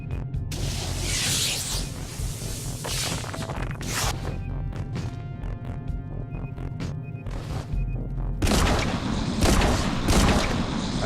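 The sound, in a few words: hand cannon gunfire in the video game Genesis Alpha One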